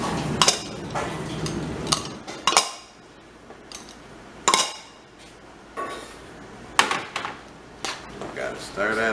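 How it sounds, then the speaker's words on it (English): Metal utensil scraping and clinking against a pan while cheese is stirred into Philly cheesesteak meat, sharp intermittent clanks spaced a second or two apart over a low background hum. "Gotta stir that up. Let that heat get on that cheese so it can start melting."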